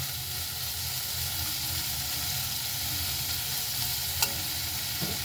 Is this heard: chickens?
no